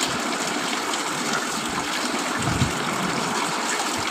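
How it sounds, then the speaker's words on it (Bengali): Water runs steadily from a tap while raw meat is being washed in a home kitchen, a continuous splashing gush with brief louder splashes midway. "এখন মাংসটাকে ধুয়ে নিচ্ছি"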